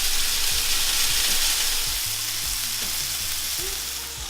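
Burger meat patties brushed with yellow mustard fry on a hot surface, producing a loud, continuous hiss and sizzle with faint scraping, heard close up without speech.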